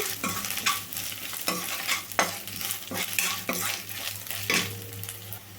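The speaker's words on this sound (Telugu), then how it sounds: "ఇట్లా ఉన్నప్పుడే ఉల్లిపాయలతోనే వేయించుకోండి" A spoon stirs coriander and mint frying with onions in a pan, making about eight rhythmic scraping strokes over a constant low sizzle, close and clear with no talking.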